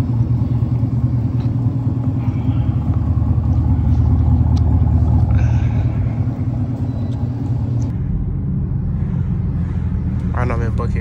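A 2019 Chevrolet Camaro SS cruising on a highway, a loud low engine rumble heard from inside the car throughout, with someone talking over it partway.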